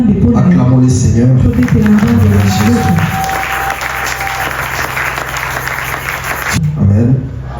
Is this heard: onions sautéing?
no